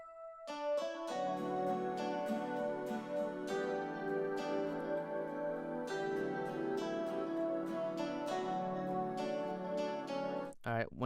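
Y2K pop-style beat with layered melodies, keys and acoustic guitar playing together in a dense, steady mix, ending with a brief high sweep.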